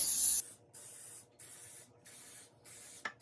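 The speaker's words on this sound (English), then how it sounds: "I am going to liberally spray it with some cooking spray" Several short hissing bursts of cooking spray aimed into a muffin tin, close by, in a quick repeated rhythm with brief gaps between them.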